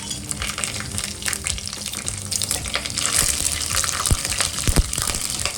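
Whole spices hit hot oil and ghee in a pan for a chicken biryani, making a steady crackling sizzle with sharper pops and stirring scrapes.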